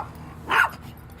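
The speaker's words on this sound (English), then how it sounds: "No barking." A pet dog lets out a single short, mid-distance bark at an outdoor RV campsite, a lone yap that stands above a quiet background hum.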